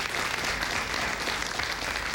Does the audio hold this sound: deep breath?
no